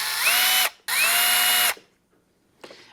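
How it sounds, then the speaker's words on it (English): A power drill drives screws into a 3D printed wing mount for an Arrma RC car. Two close, loud whirring bursts run under a second each, followed by a short, quieter mechanical sound. "we're just going to start these two screws into their respective holes."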